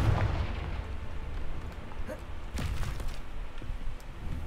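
A Confringo blasting spell explodes in a Harry Potter video game, with a low booming burst at the start and a sharper blast a couple of seconds later, both fairly faint over a muffled background.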